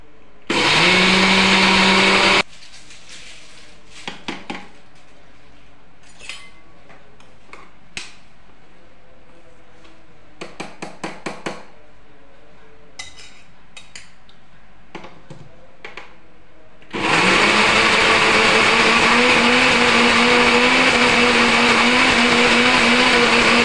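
A mixer grinder grinds rice fine for dosa batter, running loud for a couple of seconds, then stopping. Brief clicks and knocks follow in the quiet, and the whirring motor returns strongly near the end.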